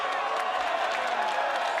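A capacity crowd at a WWE TLC wrestling event roars in a steady, dense wash of cheering and applause that fills the whole moment without a break.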